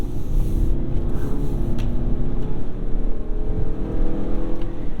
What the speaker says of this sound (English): I'm sure you heard it slipping back there because this is a front-wheel drive only SUV